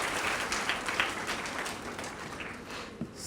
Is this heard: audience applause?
yes